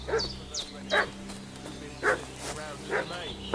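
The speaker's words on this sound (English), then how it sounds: "What's that dog making such a fuss about?" A dog in Kingdom Come: Deliverance II barks in short, separate yips and woofs at moderate distance over a low ambient hum, about five barks spread across the moment.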